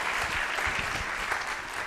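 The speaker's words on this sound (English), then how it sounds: "I think we should have a round of applause for our reciters." An audience at a Gita Jayanti gathering claps for the reciters, a dense, steady burst of applause that carries on without speech.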